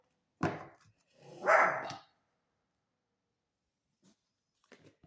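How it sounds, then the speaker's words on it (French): A dog gives two close barks, a short sharp one and then a longer drawn-out one, followed by near silence with a few faint soft noises. "Excusez mon chien qui a entendu je ne sais quoi."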